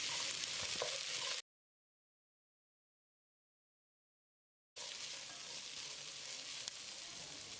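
Diced carrot, beans and green peas fry in hot oil in a pan, a soft steady sizzle that cuts out to silence for a few seconds before resuming.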